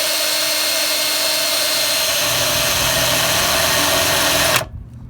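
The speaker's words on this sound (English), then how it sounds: "So what you gotta do is drill this out, find a spot weld right there," A power drill runs steadily, drilling out spot welds on the core support of a third-generation Toyota 4Runner, its loud whine holding for about four and a half seconds before cutting off abruptly.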